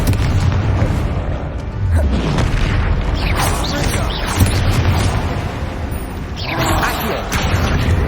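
Bombarda spell blasts in Hogwarts Legacy land as heavy, repeated booms and rumbling bursts, loud and continuous, layered with other busy game noises.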